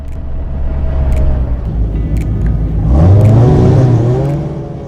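A classic Formula Ford race car at Brands Hatch, its engine droning loudly and then rising sharply as it accelerates and revs up, heard close with no talking.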